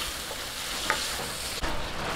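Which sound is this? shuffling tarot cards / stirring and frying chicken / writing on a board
stirring and frying chicken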